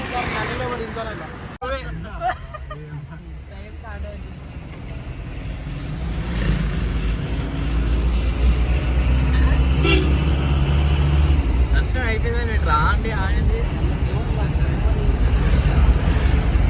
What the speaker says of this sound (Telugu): మా కార్ బి వచ్చేసింది.